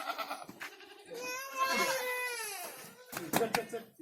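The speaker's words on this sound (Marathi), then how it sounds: "ही पापुडी, जिला आम्ही पापुडी म्हणतो, ही एक शेळी आहे." A goat bleats in a long, wavering, tremulous cry near the microphone, while a person talks briefly before and after the call.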